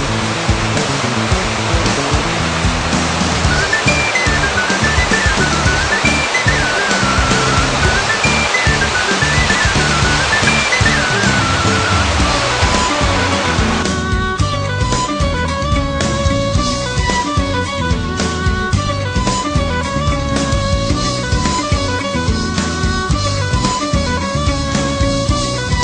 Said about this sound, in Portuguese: Refrescando na tão afamada cachoeira Sete Quedas.